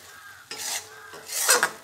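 Mango pickle pieces being mixed by hand with spice masala in a bowl, giving short bursts of soft rubbing and clinking, quiet between strokes, with no talk.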